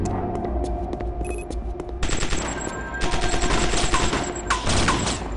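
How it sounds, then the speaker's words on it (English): Gunfire in the video game Chaser: repeated automatic bursts and scattered shots crackle loudly over a steady low hum, growing denser in the second half with no one speaking. "Okay, hearing gunfire"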